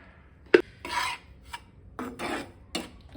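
Ragi flour roasting in ghee in a pan, a spoon scraping and stirring it in several separate rasping strokes, close and fairly loud.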